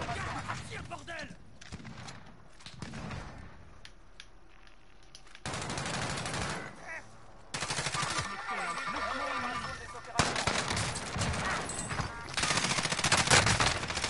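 Gunfire in the video game Warzone: bursts of automatic weapon fire and scattered shots, loud and close in several stretches, with quieter gaps and a voice talking over parts of it.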